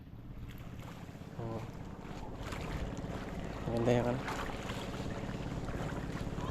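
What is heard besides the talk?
wind blowing at the beach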